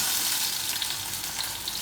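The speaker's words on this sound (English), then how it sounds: "You want it to start sizzling immediately." Plantain fries in a hot pan with a loud, continuous sizzle and crackle, steady throughout with no talking.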